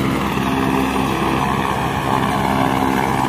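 Steady loud engine and rotor drone of a helicopter taking off on the Hemkund Sahib route, continuous and close, with no voices.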